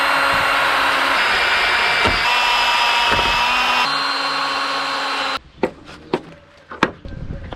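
A power drill bores through a kite harness for bolt holes, whirring loudly and steadily for about five seconds, then stops, leaving a few sharp knocks and handling clicks.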